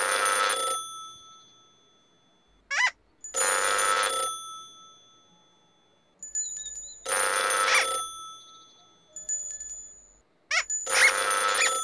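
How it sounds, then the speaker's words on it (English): A Trubliphone from the In the Night Garden children's show rings in loud, long bursts of bright electronic trilling, four rings separated by short pauses with a few small chimes and slide-whistle sounds in between, no voices. "Who is calling on the Trubliphone?"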